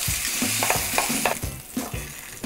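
An already cooked steak sears in an oiled hot pan, a loud continuous sizzle with rhythmic scraping and pressing knocks, and no one speaking.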